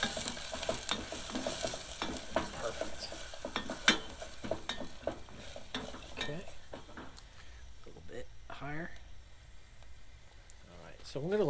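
Garlic, onion and pepper sizzle softly in a soup pot while being stirred, with scraping utensil sounds and occasional clinks, partly under a nearby voice talking.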